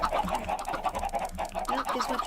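Chickens in a video game cluck and squawk in a continuous dense chorus, moderately loud and steady throughout.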